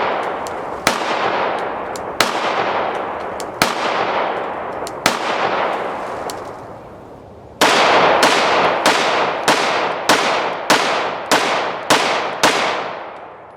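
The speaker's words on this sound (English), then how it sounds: "That's my first shots." A Rock Island Armory RIA 5.0 pistol fires 124-grain rounds, first four well-spaced shots, then a faster string of about nine, each a sharp, loud crack ringing out close by.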